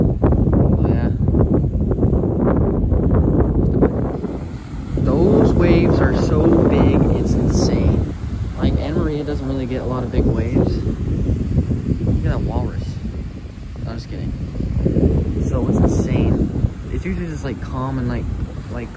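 Strong wind buffeting the microphone in loud gusts at the beach on Anna Maria Island at sunset, with a person talking over the blustery roar.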